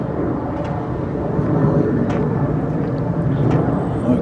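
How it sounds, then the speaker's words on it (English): An aeroplane passing overhead above a skate park in Central Forest Park, Hanley, a steady low broadband roar holding at an even level without fading, with no talk over it. "I've got an aeroplane above."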